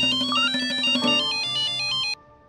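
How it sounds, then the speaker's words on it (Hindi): A phone's melodic electronic ringtone plays loud and close for a call from the lab, its bright repeating notes sounding for about two seconds before cutting off abruptly. "लैब से फोन आया।"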